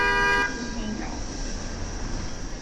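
A vehicle horn toots once, loud and close, in the Roblox game Ultimate Mining Simulator, followed by quieter game ambience and faint background talk.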